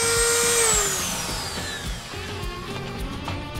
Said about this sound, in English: let me show you how to cut with these accessories